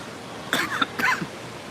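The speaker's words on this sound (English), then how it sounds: "When I talk a lot, I start to cough a lot too." Two short, close coughs in quick succession, dry and throaty, against a soft steady background hiss.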